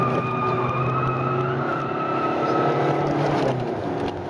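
Racing motorcycle braking and shifting gears on the Motorland circuit, a loud, steady engine roar with shifting pitch as the rider brakes hard and drops a gear, continuous throughout.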